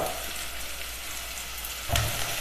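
Sliced onion, shallots and chopped dried red chilies frying in hot oil, a steady broadband sizzle with a brief louder burst near the end as more goes into the pan.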